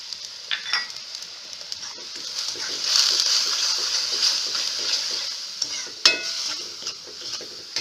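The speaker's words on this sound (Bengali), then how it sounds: "চিনিটা না গলা পর্যন্ত নাড়তে হবে" Milk and sugar are stirred in a pan for a lachha semai laddu sweet, a close, steady hiss and bubbling with scattered spoon scrapes and a sharper clack near the end, heard alone without talk.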